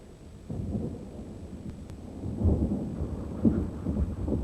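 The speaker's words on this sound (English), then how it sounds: "In June, storm clouds gather over the bridge." Thunderstorm over a bridge spanning the Mississippi River, with deep rolling thunder rumbling continuously and swelling in loudness, blended with a steady wash of rain, no voices present.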